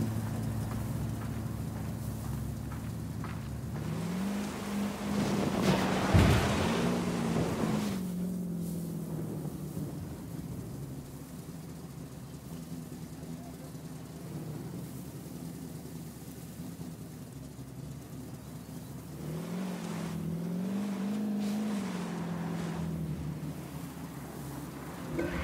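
A car driven in Ghost Recon Wildlands gives a steady, low engine drone that swells twice as the revs climb, with no talking.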